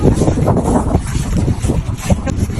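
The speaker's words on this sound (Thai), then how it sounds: "ลมแรงมากเลยค่ะ แล้วก็ลมดีด้วย" Strong wind gusts across an outdoor flower garden in Ratchaburi, Thailand, producing loud, continuous buffeting and rumbling against the microphone for the whole stretch, with no talk.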